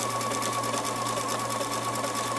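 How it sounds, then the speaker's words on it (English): A sewing machine doing machine smocking, running steadily and loud throughout with a fast, even mechanical stitching rhythm and a constant motor hum. "Oops, I'm sewing the same stitch."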